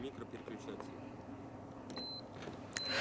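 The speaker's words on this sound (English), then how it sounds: "There is an intermittent beeping, which means that our sensor is working properly." Two short, high electronic beeps from a MOSKIT perimeter protection sensor sound a second apart over faint room noise and low background murmur, followed by a brief burst of chirping.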